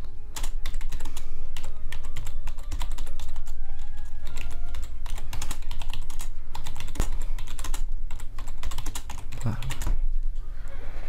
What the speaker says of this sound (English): I'm typing at the moment